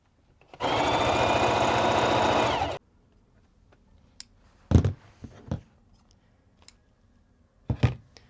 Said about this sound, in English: You gotta love how loud these singers are, just in case you forget you're sewing something.